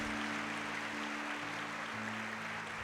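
A church congregation applauds at a worship service, steady dense clapping from many hands under a sustained organ or keyboard chord, continuing evenly throughout.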